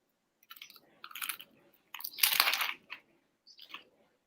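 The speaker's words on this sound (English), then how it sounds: "that was like the crunch from the bread, the crunch from the vegetables" Biting into a sandwich of bread, vegetables and boiled egg gives several loud, close crunches. Short crisp bites are followed by one long heavy crunch and then softer chewing crackles, with no talk.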